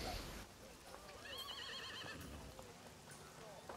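A horse gives a loud quavering whinny over the rhythmic clip-clop of hooves, a staged sound effect in a fantasy role-playing battle scene, with faint talk beneath.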